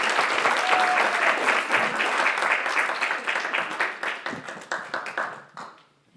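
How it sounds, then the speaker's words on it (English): A crowd applauds steadily for a speaker at a civil rights event, dense clapping that holds for several seconds, then thins out and fades away at the end. "Give a round of applause for Courtney Henderson."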